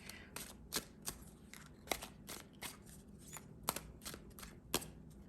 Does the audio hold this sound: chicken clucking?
no